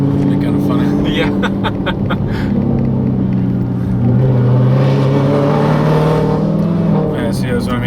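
A 1200 hp Dodge Charger Hellcat SRT engine rumbles at part throttle with a lumpy, uneven idle-like burble that swells briefly, heard close and loud while people talk over it.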